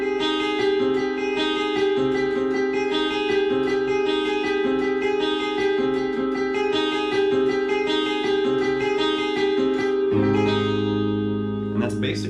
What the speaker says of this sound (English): it creates this mysterious, kind of haunting, sound like this